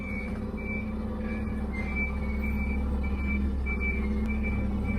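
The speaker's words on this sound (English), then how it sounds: "You got that annoying beeping sound." Forklift backing up with its reversing alarm beeping in a steady repeated rhythm over a constant low engine rumble, fairly close and continuous throughout.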